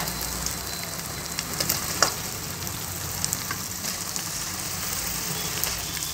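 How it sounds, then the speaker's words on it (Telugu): Bone-in mutton, 500 grams, sizzles and fries steadily in a pan, a constant crackling hiss with scattered small pops and occasional stirring clicks, close and continuous with no talking. "ఇప్పుడు ఇందులో నేను మటన్ వేస్తున్నాను ఇది 500 గ్రామ్స్ మటన్ విత్ బోన్స్"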